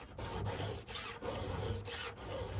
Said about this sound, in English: I kind of like the one-handed filing on this square,